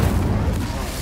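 A loud, continuous fiery roar from an Incendio fire spell cast in Hogwarts Legacy, a dense rumbling burst that fills the whole moment without a break.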